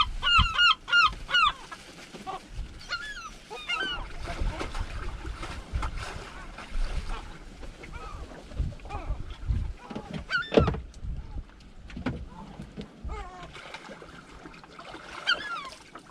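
Gulls calling repeatedly behind a fishing boat off Falmouth, Cornwall, with sharp overlapping squawks and yelps from several birds, some near and some farther off, over steady engine and water noise.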